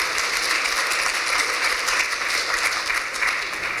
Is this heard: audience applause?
yes